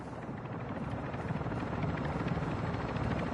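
Extraction helicopter in Call of Duty DMZ, a steady thumping rotor chop and turbine whine that grows slightly louder as it approaches, with no talking.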